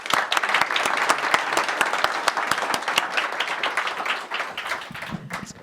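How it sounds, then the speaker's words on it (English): A conference audience applauds a panel at a blockchain event, dense steady clapping that fills the room for about five seconds before thinning out near the end. "I'd like to give you a round of applause."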